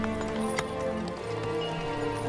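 Horse hooves clop in a steady run beneath a dense orchestral score in a historical TV drama, the hoofbeats partly masked by the music.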